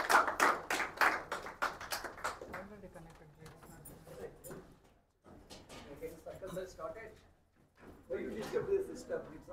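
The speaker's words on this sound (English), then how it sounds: "please join me in welcoming Sir with a big round of applause" An audience at a symposium on shock waves in medicine, science and engineering claps to welcome a speaker, a short burst of applause at the start that gives way to a person talking.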